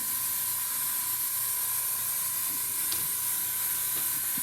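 Airbrush or spray can hissing steadily while painting a model wall on a demolition-site diorama, a constant close hiss with faint taps underneath and no talking.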